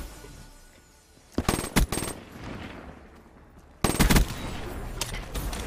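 An automatic gun firing in a first-person shooter video game, two loud rapid bursts of gunfire separated by a quiet pause, close and punchy with no voice over them.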